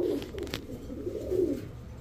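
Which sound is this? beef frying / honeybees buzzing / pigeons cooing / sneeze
pigeons cooing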